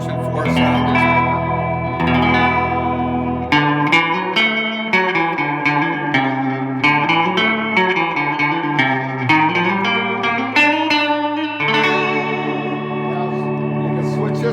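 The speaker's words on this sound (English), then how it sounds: "That's the Dimension 4 sound expander." Electric guitar chords and melodic lines run through a Fender Dimension IV sound expander, which gives them a lush, swirling chorus-like wash with reverb, played steadily and loud.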